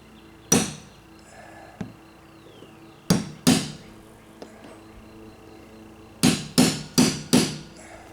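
Sharp hammer taps on a deck's rivet line making a divot: a single blow, a faint tick, a pair of strikes, then four quick ringing hits in a row, each with a short metallic decay.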